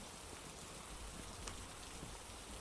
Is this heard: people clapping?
no